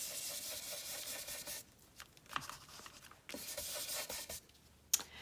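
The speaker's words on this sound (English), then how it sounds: "I'm gonna do some distressing around the edges of the card and around the house" Paper card edges being distressed by hand, giving dry scraping and rubbing bursts in two main stretches with quiet gaps between them and a sharp tick near the end, close and fairly soft.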